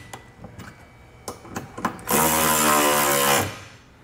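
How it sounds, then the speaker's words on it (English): A socket wrench works on bolts while a Draw-Tite Sportframe trailer hitch is installed on a 2015 Honda Civic: a few scattered clicks and knocks, then a loud steady mechanical burst for just over a second. "For our smaller bolts, we're gonna use a 14 millimeter socket."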